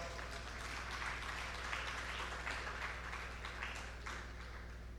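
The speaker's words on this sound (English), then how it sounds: "Let's give him a round of applause." Steady applause from a crowd, a dense wash of many hands clapping at once, moderately loud and continuing throughout without voices.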